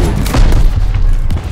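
Shotgun blasts in a first-person shooter video game, a rapid run of heavy booming shots close together, loud and punchy with deep low-end thumps and no talk over them.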